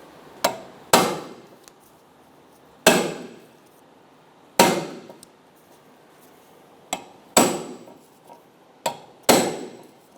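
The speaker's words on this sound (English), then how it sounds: "I'm going to be using an impact driver and a Phillips bit." An impact driver with a Phillips bit backs out the screw holding a headlight plate locator on a 2003-2007 Infiniti G35, giving about eight sharp, separate rattling bursts with ringing tails, close and loud, with quiet gaps between.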